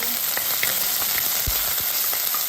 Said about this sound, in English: I'm going to keep moving these ingredients through the saute pan so nothing burns.